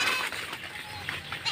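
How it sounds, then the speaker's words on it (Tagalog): Goats on a farm bleat in a few scattered, fairly faint calls against quiet outdoor background, with a louder bleat rising at the very end. "So, ito naman yung ating mga kambing."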